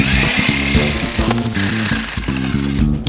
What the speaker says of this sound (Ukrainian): Ми беремо відбійний молоток.